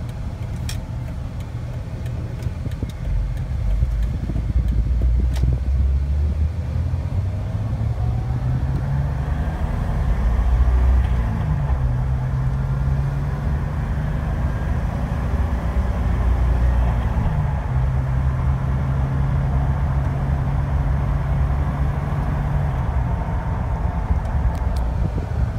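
A 2006 Jeep Wrangler TJ with 28K miles cruising along a road near an airport, steady engine drone rising and falling through gear changes, with tire roar and wind noise heard from inside the cabin.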